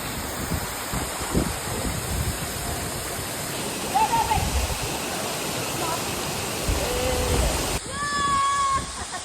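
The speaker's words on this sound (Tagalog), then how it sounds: "Perfect view from here. Tulugan Falls ng Luciana, Laguna." Tulugan Falls waterfall in Luisiana, Laguna, roars as a steady broadband rush of falling water, loud and continuous throughout, with brief voices and a few faint tones rising above it near the end.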